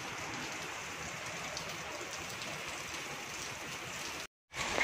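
Heavy monsoon-style rain pours steadily in a dense, even hiss, moderately loud and unbroken, then cuts out briefly near the end. No voices are heard.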